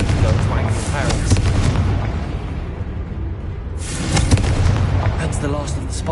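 A blasting spell explosion in Hogwarts Legacy booms loud and dense, rumbling through a continuous wash of game noise, with a second swell of blasts after a brief lull.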